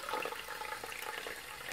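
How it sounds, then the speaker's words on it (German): Water gushes steadily into a brush-cleaning cup as it is filled for soaking makeup brushes in baby shampoo, a continuous close splashing rush with no talk. "Und dann füllt ihr das Ganze mit Wasser voll."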